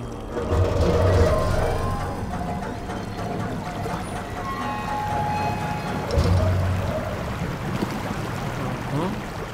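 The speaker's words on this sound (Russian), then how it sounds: "Воду мы спустили." Water draining away in the horror game Amnesia: Rebirth, a continuous rushing, gurgling wash with low rumbling swells, fairly loud and steady.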